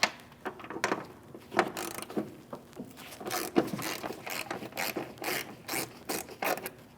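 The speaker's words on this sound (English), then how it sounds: "you can loosen up these nuts easily. 13mm socket or wrench." A 13mm socket on a ratchet loosens hood hinge nuts on a Chevrolet Malibu, producing repeated close runs of quick metallic clicks and rubbing scrapes in uneven bursts throughout.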